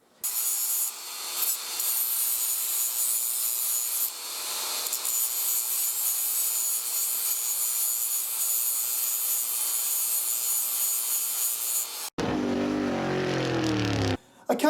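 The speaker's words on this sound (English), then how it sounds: "I'm going to rough that up with the sander" Power sander roughing up a tin plate panel for a custom pickup bed on a 1960s Austin A40, a loud, continuous high abrasive whine held for many seconds, then cut off just before a short burst of other noise.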